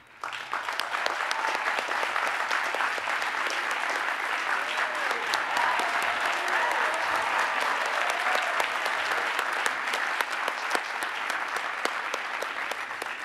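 Sustained applause from a large audience at a university ceremony, honoring retiring faculty who are becoming professors emeriti; dense, steady clapping fills the whole stretch at an even loudness with no talk over it.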